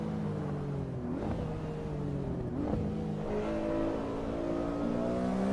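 A car engine revs and shifts through gears in the racing game Assetto Corsa Evo, a steady loud drone with rising pitch sweeps and two sharp gear changes, no talk over it.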